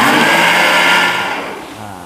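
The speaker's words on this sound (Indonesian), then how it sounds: "Kemudian di blender ya?" A blender runs loud and steady while mixing sugar for a large batch of dough, its whirring motor tapering slightly toward the end.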